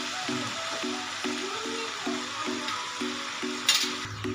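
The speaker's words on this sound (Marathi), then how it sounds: "मी पास्ता पाण्यामध्ये उकळून घेतलेला आहे, हा आता ह्याच्यामध्ये टाकून घ्यायचा।" Boiled pasta goes into a pan of sautéed masala, with a soft steady sizzle and faint stirring scrapes, heard close and fairly quiet, and a brief clatter near the end.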